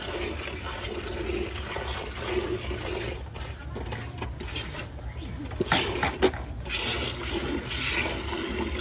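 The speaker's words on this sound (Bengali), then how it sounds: "দুধ আমরা ফুল দহন করে আপনাদের দেখাই দিলাম" A cow is milked by hand, and streams of milk splash into a pail in a steady rhythmic run of liquid spurts at close range.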